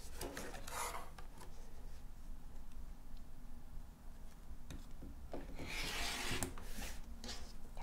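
Rotary cutter slicing one-inch cotton fabric strips for a patchwork quilt, a steady close rasping rub with brief scraping strokes at the start and a louder burst near the end, no talking.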